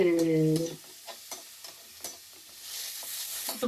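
Onions and tomatoes with ginger-garlic paste frying in a pan while being stirred, giving a steady close sizzle broken by scraping stirs, with a brighter hiss swelling near the end.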